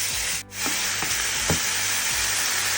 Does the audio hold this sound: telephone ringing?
no